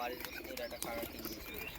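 Slate-grey pigeons cooing and fluttering nearby, soft repeated calls mixed with some chirps and a voice speaking underneath.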